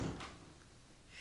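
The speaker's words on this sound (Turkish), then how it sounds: "Apartman kapısı açıkmış." Apartment building door in a Turkish police radio drama, opening with a short wooden knock-like thud at the start and a faint creak, followed by quiet room tone and a soft hiss at the end.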